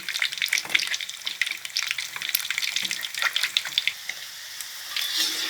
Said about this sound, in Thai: ทอดพอเหลืองเป็นสีทอง ก็ใช้ได้